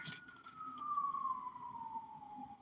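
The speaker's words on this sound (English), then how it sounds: "Can you hear the sirens going off?" Emergency vehicle sirens wail in the distance, a single steady tone slowly falling in pitch over a low background rumble of traffic, with no one speaking.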